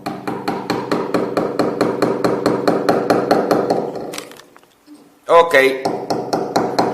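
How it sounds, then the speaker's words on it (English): Hammer strikes driving a nail into a wall, a steady run of about twenty sharp, evenly spaced blows lasting four seconds, close and loud, followed by a brief pause and a short spoken word. "now I have a hammer, and now I can finally do my job"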